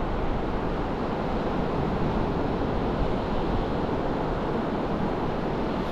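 Sea waves on the winter shore at Rossall Beach, Cleveleys, heard as a steady, loud, broadband rush of surf mixed with wind buffeting, continuous throughout with no voices.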